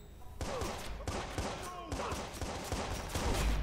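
Repeated gunshots in Watch Dogs: Bad Blood crack out in a steady, evenly spaced series of sharp bangs over faint background game sound and a voice.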